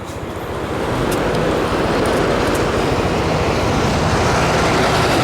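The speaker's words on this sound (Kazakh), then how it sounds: "Шулай юл, бик күп машиналар монда" Dense road traffic near Chonburi, Thailand, with many cars: a loud, continuous roar of passing vehicles and tyre noise that builds in the first second and then holds steady, with no talking.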